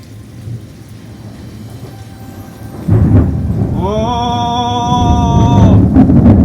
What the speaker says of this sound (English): It's so loud right now.